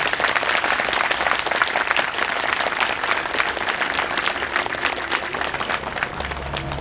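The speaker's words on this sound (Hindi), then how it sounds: "बहुत खूब जोरदार तालियां।" Sustained audience applause fills the room at an event honoring a guest, dense steady clapping from a crowd, loud and continuous with no pause.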